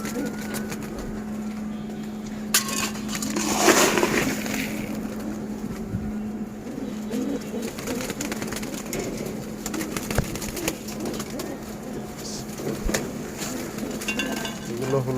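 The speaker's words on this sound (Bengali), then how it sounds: "এগুলো হলো বুড়া কবুতর।" Old pigeons cooing and pecking at food on a rainy day, soft bird sounds with a brief louder flutter, under a steady low hum and some distant talk.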